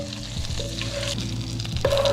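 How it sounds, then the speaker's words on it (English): Butter is added to a stew pot already holding rendered beef fat, giving a steady close sizzle and frying crackle with brief stirring scrapes, and a sharper hiss rising near the end. "So now we want to go ahead and just add our butter"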